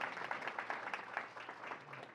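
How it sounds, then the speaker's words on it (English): An audience claps in a faint, steady patter of applause that continues across the whole stretch, distant and soft. "Yeah, you could clap."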